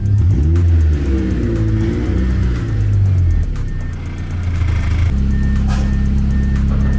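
A Honda CRX with a K20 engine revving loudly and close, pitch sweeping up and down, then settling into a steady higher drone.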